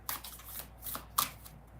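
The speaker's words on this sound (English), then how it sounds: "You saw me shuffling." Playing cards are riffled and shuffled at close range during a card reading, giving quick papery flutters and soft snaps with a sharper slap near the end, all brief and alone.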